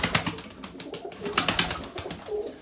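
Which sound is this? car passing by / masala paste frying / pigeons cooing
pigeons cooing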